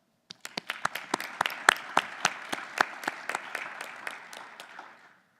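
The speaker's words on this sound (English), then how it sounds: "Give them a round of applause." A conference awards audience gives a short burst of applause, with distinct individual claps over a thinner crowd clapping that swells and then fades out after about five seconds.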